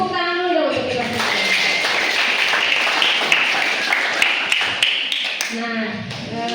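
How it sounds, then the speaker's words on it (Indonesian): School students at a junior high Maulid Nabi gathering applaud together in a sustained burst of clapping lasting several seconds, with voices and chatter mixed in. "Tepuk tangan dulu dong untuk kita semua."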